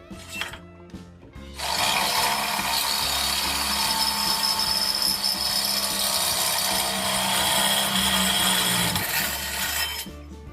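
A Ronix 8018 cordless three-mode drill with an 8 mm bit bores straight through both walls of a 1.5 mm steel box tube without a pilot hole. After a brief pause, a loud, steady grinding whine runs for about eight seconds and then stops.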